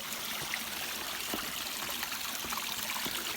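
A stream flowing at Jim Yai waterfall at Ban Khao Phluang in Phetchabun after rain has begun, heard as a steady, close rushing trickle of water with small splashes, continuous and unbroken, with no voices.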